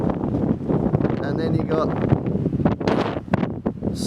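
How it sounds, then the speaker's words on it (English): Strong, cold wind roars and buffets the microphone continuously on the steps at Alcatraz while someone talks over it. "it is that windy and cold out here."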